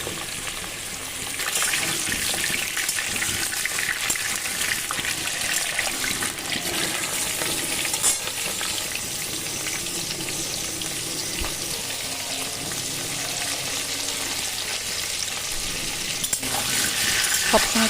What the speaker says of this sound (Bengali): এবার আলুগুলোকে আমি ভেজে নেব সামান্য হলুদ আর নুন দিয়ে।